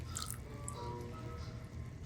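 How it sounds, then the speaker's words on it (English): Cornstarch slurry poured into a wok of saucy tofu, giving faint wet drips and soft squishy splashes over a low kitchen background hum. "it's ready to be thickened with the cornstarch slurry. I'm just going to pour it in now"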